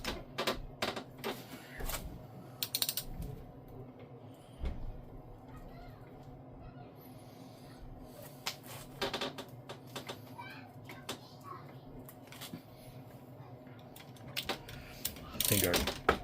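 A ratchet clicks in short bursts while tightening the rear drive shaft bolts on a Jeep YJ, a close mechanical ticking amid clanks and quiet stretches.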